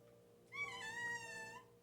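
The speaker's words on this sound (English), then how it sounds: "Oh, the cat." A house cat gives a single drawn-out meow lasting about a second, faint and fairly close, over a quiet steady hum.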